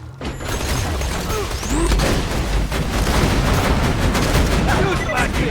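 Dense rapid gunfire from turrets in a video game, loud and continuous with overlapping shots and low booms, while a voice shouts over the barrage.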